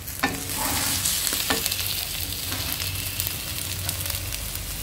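Ginger fries with garlic and chili for chicken manchow soup, a bright steady sizzle with a few sharp clinks of the spoon near the start, close and continuous with no speech.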